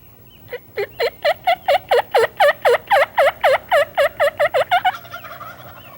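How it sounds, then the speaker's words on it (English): A wild turkey gobbler gobbles early on a spring morning in Michigan, a rapid series of about twenty loud, rhythmic notes, clear and fairly close, then trails off into quiet. "I got one gobbler going early in the morning."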